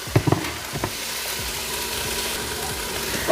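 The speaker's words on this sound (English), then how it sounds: "take our minced garlic and put that in the pot as well" Minced garlic sizzles in a hot pot, a steady soft frying hiss with a few brief clinks and stirring scrapes near the start, close and moderately loud with no talking.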